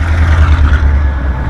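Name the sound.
engine of an old Ford F250 pickup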